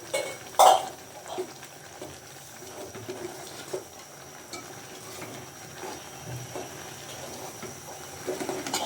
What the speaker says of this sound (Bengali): এই যে চালের গুঁড়ো, এভাবে আমি কাইটা সিদ্ধ করে নিব